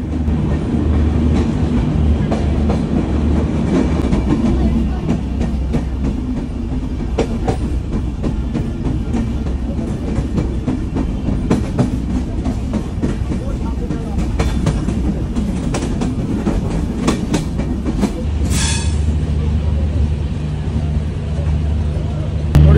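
The Kapotaksha Express rolls along steadily after leaving Mirpur station in Bangladesh, with a continuous rumble and rhythmic clatter of wheels on the tracks, loud and close, with a brief squeal near the end.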